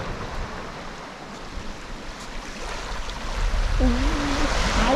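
Sea waves wash onto the shore at Lyme Regis beach on a bright day, a steady broad surf roar with some wind, growing louder toward the end, with a faint voice-like tone briefly heard.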